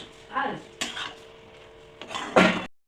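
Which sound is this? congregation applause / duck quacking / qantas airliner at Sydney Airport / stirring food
stirring food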